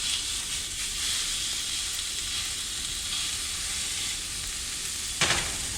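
Pork cooking on low heat in a covered pan gives a steady, even sizzle and hiss, close and continuous, with a brief clatter near the end.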